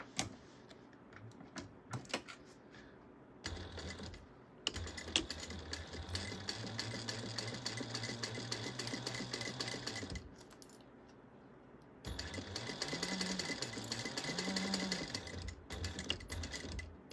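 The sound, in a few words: sewing machine basting bag straps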